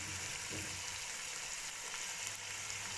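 Chicken with ginger garlic paste roasts in a pot for chicken yakhni pulao, giving a steady, fairly quiet sizzle and hiss with no pauses and no talking.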